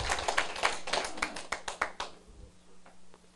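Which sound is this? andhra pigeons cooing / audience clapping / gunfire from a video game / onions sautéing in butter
audience clapping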